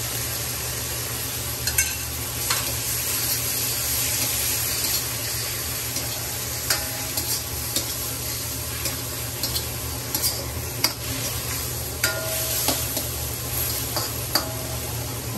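Shrimp and cream dory frying in a non-stick wok, a steady bright sizzle throughout with occasional clinks and stirring scrapes, close and continuous with no talk.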